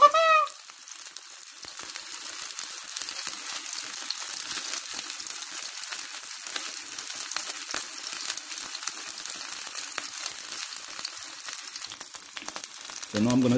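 Steak and broccoli pancakes frying in oil in a pan: a loud, steady crackling sizzle runs throughout, with a brief voice at the start and end.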